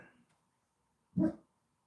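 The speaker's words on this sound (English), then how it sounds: "Big old German Shepherd too." A large year-old German Shepherd, around 100 pounds, lets out a single short bark at moderate distance, surrounded by quiet.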